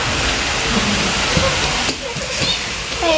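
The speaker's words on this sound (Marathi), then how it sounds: "पाऊस चालू आहे आमच्या सिन्नरला" Steady rain falling in Sinnar, a dense continuous hiss close by with no talk, briefly dipping near the middle before resuming.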